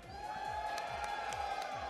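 A crowd cheering and whooping at a Marvel vs. Capcom 3 top-eight fighting game tournament, a steady roar of voices with a looping rhythmic game sound underneath.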